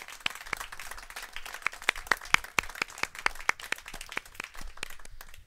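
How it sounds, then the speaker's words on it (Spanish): A church congregation applauding at a Sunday service, scattered sharp handclaps from a modest crowd, moderately close and fairly quiet, with no talk over it. "damos otro aplauso"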